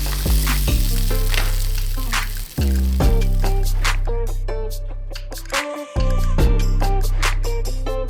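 Vegan panes de pollo fry in a hot skillet, giving loud close sizzling broken by several bursts and brief dips as pieces are moved or stirred.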